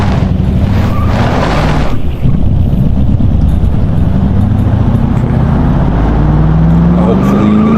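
A car in BeamNG revs and strains as its wheels spin, a loud, steady engine drone with rising pitch sweeps and a brief burst of hiss near the start.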